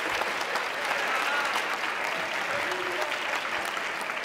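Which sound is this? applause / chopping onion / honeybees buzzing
applause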